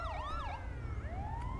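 An ambulance siren in the video game GTA 5 wails and yelps in rising and falling sweeps, loud and close over a low engine rumble.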